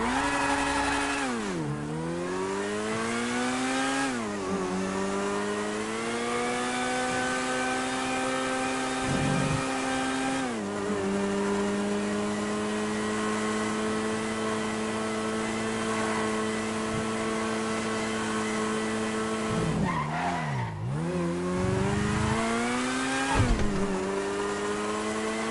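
A two-seater Raptor three-wheeler sports car in a video game drives along, its engine holding a steady harmonic drone that drops and climbs again at several gear shifts, loud and close with no talking.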